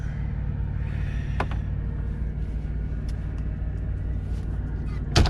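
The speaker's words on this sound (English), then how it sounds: "We're at a T8 truck stop." Ambience at a T8 truck stop outside Coldwater, Michigan: a constant low vehicle rumble with occasional hisses and clanks, ending in a louder burst as a vehicle passes nearby.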